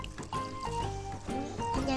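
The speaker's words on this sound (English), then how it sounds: "Next, we're going to add some water into our dish. It's like a waterfall." Water is poured into a baking dish for baked spaghetti, giving a short, close splashing and trickling fill over light background music.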